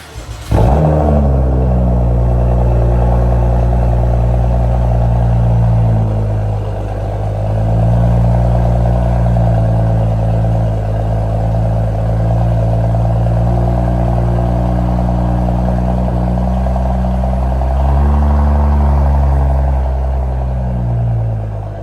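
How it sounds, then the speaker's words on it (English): BMW X3 with the N55 engine and a VRSF high-flow catted downpipe, idling steadily after a cold start, a loud, deep, continuous exhaust drone and rumble with a slight dip in revs partway through, with no talking. "let's hear the cold start"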